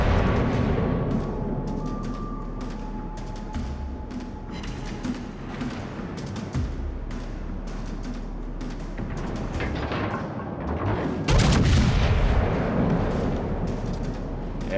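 Rear guns of a tank firing in a video game, heavy booming thuds and rumbling blasts over continuous battle noise, with one especially loud burst near the end.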